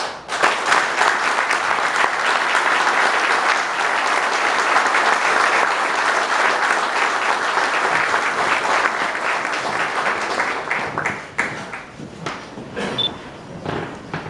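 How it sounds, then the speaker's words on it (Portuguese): Sustained audience applause at a state legislative ceremony honoring a 98-year-old Brazilian Expeditionary Force veteran of the Battle of Monte Castelo; dense, loud clapping holds steady for about eleven seconds, then thins into scattered claps and fades. "eu peço para ele uma salva de palmas"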